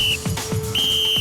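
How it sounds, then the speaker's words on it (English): A referee's whistle starting a race at a Springbok trials heat of an MTN Gladiators event gives two loud, sustained shrill blasts, the first brief and the second longer, over a noisy arena background. "Christo, you will go in the first blow of the whistle."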